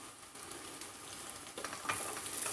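Onions sautéing in a pan for sabudana khichdi give a steady, faint sizzle and crackle, with occasional stirring scrapes and no talk.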